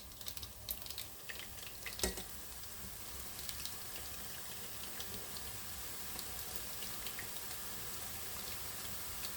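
Boondi batter poured through a slotted ladle into hot oil for laddu, giving a faint, steady sizzle with scattered crackles and a brief louder splash early on, no talking.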